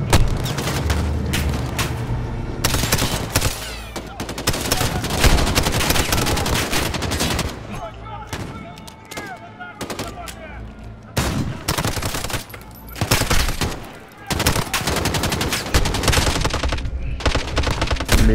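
Heavy gunfire in Call of Duty Modern Warfare: loud machine-gun bursts and booming shots arrive in dense waves, broken by short lulls, with very little talk.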